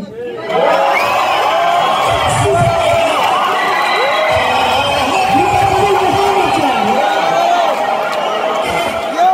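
An audience of students at a university gathering in Rwanda cheers and claps loudly and continuously, with shouts and whoops rising from the crowd and voices heard through the noise.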